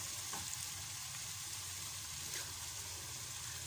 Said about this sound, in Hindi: तो इसमें मैं 1 कप और ऑयल डाल रही हूँ